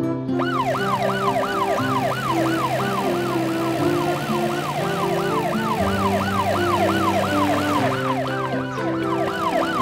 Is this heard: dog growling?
no